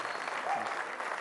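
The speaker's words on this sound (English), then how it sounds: "Let's have a round of applause for Gaur Gopal Das." Audience at a live speaking event applauds a motivational speaker, a dense, steady wash of clapping filling the whole moment with no speech over it.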